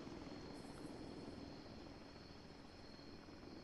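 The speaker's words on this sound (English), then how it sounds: "that chopper is now officially bugging out" A helicopter in the military video game Arma 3 flies away, its rotor and engine making a steady, dense whirring drone that fills the whole stretch at an even loudness without a break.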